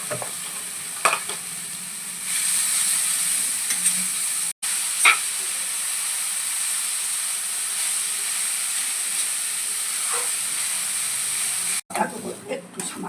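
Grated carrots for carrot kheer fry in a hot pan with a steady, bright sizzle, while a spoon scrapes and stirs them every few seconds; the hiss stays loud and continuous throughout.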